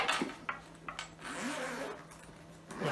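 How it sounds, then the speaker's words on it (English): Closing the zipper of a foam-lined miniatures carry bag gives a series of quick ratcheting zip strokes with short pauses between them, close and clear. "So let's zip that back up."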